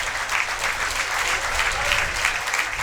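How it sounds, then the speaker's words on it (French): A home crowd at a Fédérale 3 rugby match applauds steadily as a prop leaves the field, a dense, even wash of clapping held for a few seconds with no break. "Applaudi par son public."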